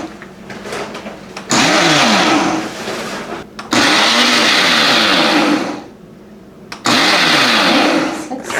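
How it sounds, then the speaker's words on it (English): A Ninja blender pulses egg white for a cocktail dry shake: loud, close bursts of motor whir with a rising pitch, three separate pulses broken by short quiet gaps, and no talking over them. "we're going to emulsify the egg, dry shake it if you will, with our little Ninja assistant"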